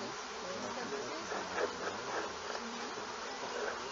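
Honeybees buzz in a dense, steady drone around an open beehive, close and continuous throughout.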